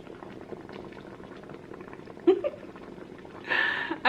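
Water bubbles and boils in a facial steamer in a continuous, close gurgle, with a brief louder sputter midway and a hissing burst of steam near the end.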